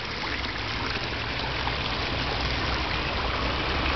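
Steady rushing of a garden stream flowing without pause, a broad continuous wash of water at moderate loudness with no voices.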